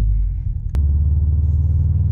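A stock Subaru STI engine pulls under acceleration with a loud, steady low rumble and droning exhaust. A single sharp click cuts in partway through.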